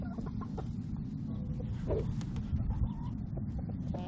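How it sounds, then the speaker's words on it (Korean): Hens step out of their coop and cluck in short, irregular bursts at moderate distance over a low, steady background rumble. "결국 암탉들은 놀부를 만나기 위해 닭장 밖으로 나온다."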